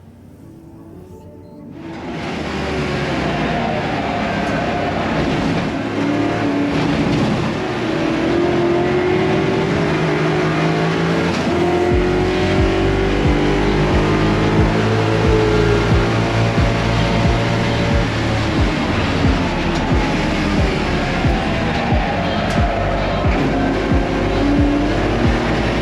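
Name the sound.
H-pattern Ford Mustang race car at full throttle in qualifying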